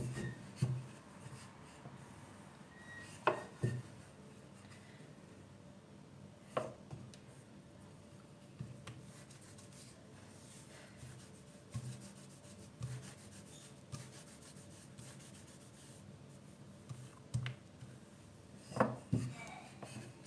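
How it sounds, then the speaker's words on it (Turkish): Thin pastry dough for saffron rice börek being rolled out, soft repeated rubbing and rolling strokes with occasional light knocks and taps, faint and close, spread irregularly over a quiet background. "İyice inceltiyorum hamurumu."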